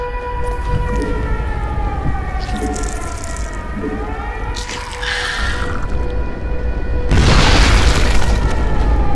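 Explosions and an alarm siren in a StarCraft II co-op mission as Zagara on the Dead of Night map: booming blasts, the loudest and densest near the end, over a steady siren-like tonal drone and game music.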